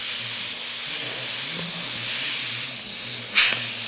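Spray paint hisses steadily from a can to make a smoke effect behind a stencil, a close, continuous airy spray with a brief sharper burst near the end, with no voices.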